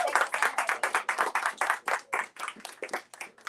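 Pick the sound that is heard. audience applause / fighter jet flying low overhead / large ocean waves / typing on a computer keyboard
audience applause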